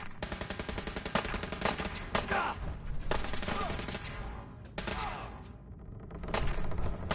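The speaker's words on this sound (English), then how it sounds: "Taking fire." Rapid bursts of automatic gunfire crackle nonstop during a surprise assault in Fallout 4, dense and loud with overlapping shots, briefly easing near the end before picking up again.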